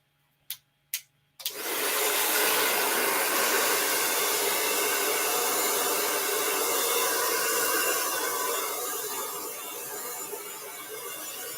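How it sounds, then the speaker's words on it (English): A blow dryer used to dry paint on a Halloween painting starts after two sharp clicks, then roars loudly and steadily up close before easing slightly toward the end, with no talk. "I'm about to turn my blow dryer on."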